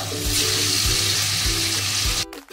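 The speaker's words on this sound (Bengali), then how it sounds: "এবার এটা হালকা ভেজে নিতে হবে" Papaya dhoka pieces fry lightly in white oil with a loud, dense, continuous sizzle and a low rhythmic thumping beneath, cutting off abruptly near the end.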